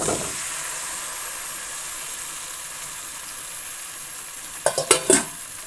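Fried chicken hisses steadily in a hot pan while cooking for mandi, then a cluster of metal spoon clinks and scrapes near the end as it is stirred in.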